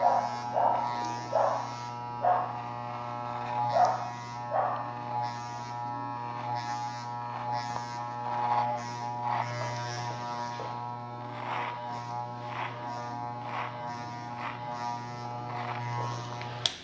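An electric hair clipper with a guard comb cutting hair during a haircut, a constant close electric buzz with a mains-like hum, broken by repeated brief rasping bursts as it passes through hair.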